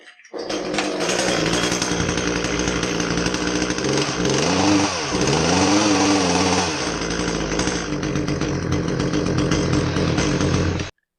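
An Echo CS400 chainsaw engine runs rich, a steady loud two-stroke drone for about ten seconds with a brief dip and surge in revs midway, alone with no talk.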